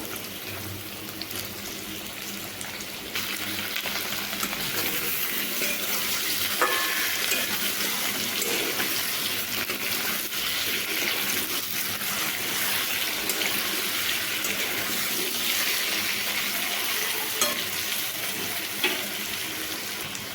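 Tangra fish frying in a pan with salt, a steady broadband sizzle running continuously and fairly close throughout, with faint scrapes of stirring and no talking.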